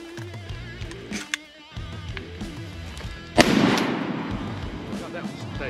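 Shotgun blasts during a wood duck hunt in a pine woodland, with a sharp loud report followed by a long rumbling echo, preceded by softer pops and rustling as hunters speak in the background.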